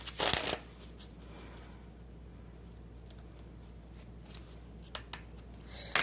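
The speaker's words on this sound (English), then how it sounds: "let's pull some oracle cards" Oracle cards being shuffled close up: a loud riffle at the start, then quiet, continuous soft sliding and flicking of the deck, with sharper card snaps near the end.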